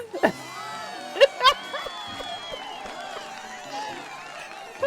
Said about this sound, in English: You'll notice this one gets a lot more cheers from the crowd.